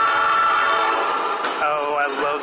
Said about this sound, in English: oh, I love the train whistle.